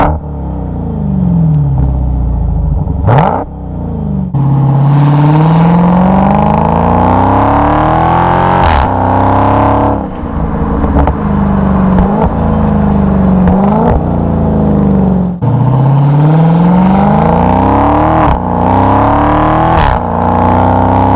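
A 2019 Dodge Challenger Hellcat Redeye accelerates at full power out of a turn, its engine roaring loud and close in repeated rising sweeps through several gear changes, with a deep rumble underneath.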